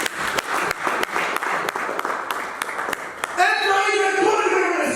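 A church congregation claps at an evangelistic gathering, a dense burst of applause with distinct sharp claps, under a voice that then rises into speech or singing near the end.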